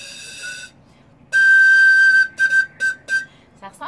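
A pan flute pipe with modeling clay plugging its end, blown close up: a faint breathy tone, then a long steady whistle-like note followed by several short, bright blasts in a loose rhythm.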